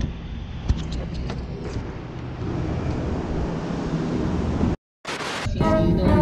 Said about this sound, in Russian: Вот и наша арендованная машина.